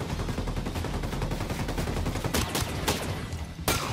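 Rapid gunfire in the video game Ghost Recon rattles in sustained bursts, followed by a few sharp, separate shots near the end, moderately loud with no talking.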